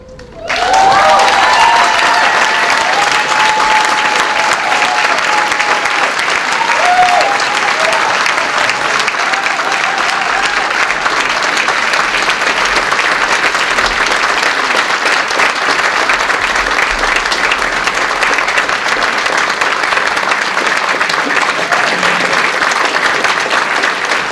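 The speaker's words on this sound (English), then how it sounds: "Let's give another round of applause" A large audience at a luncheon gives sustained, loud applause after a song performance, dense clapping that carries on steadily for the whole stretch with no break.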